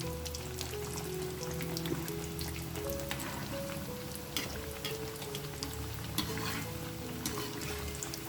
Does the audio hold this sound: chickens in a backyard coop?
no